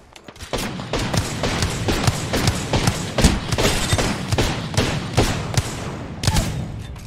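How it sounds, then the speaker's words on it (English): Rapid gunfire from another team in a battle royale-style video game, loud dense volleys of shots and booming impacts cracking almost continuously, with sharper bursts standing out now and then. "Different team shooting at them too."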